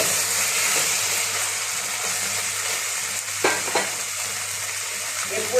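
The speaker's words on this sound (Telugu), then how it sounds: "టమాటోస్ బాగా వేగేయండి ఈ విధంగా వేయించుకోవాలి" Tomatoes fry for egg-and-chicken biryani masala, giving a loud, steady sizzle and hiss close up, broken by a couple of stirring scrapes near the end, with no talking.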